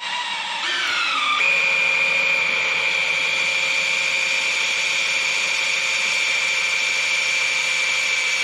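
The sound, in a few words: power drill driving engine oil pump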